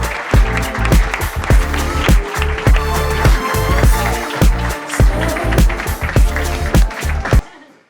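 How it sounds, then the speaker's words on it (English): An audience at an interview event applauds steadily and loudly for several seconds, dense clapping filling the room before it fades out at the end. "please give a warm round of applause for the CEO of One Voice Blackburn, Zaffer Khan."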